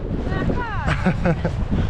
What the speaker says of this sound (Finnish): Kyllä täällä vähän tuulee.